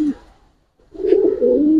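A Giribaz pigeon gives a loud, close, sustained coo after a brief opening note and a short pause, with no voices alongside.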